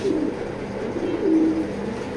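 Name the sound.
pigeon cooing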